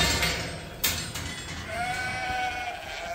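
Sheep bleating at a farm in a rural pasture setting, a few drawn-out calls rising over steady outdoor background noise, with one sharper burst partway through.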